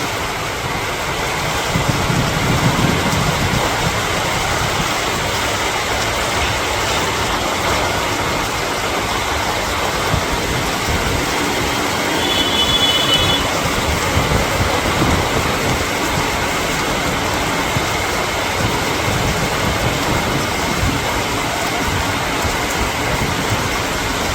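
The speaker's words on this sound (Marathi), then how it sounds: "असा हा मुसळधार पाऊस सोलापूर शहर परिसरात आता सुरू झालेला आहे" Steady, dense hiss of heavy rain falling without pause over Solapur city, with a low rumble of traffic underneath and no voices.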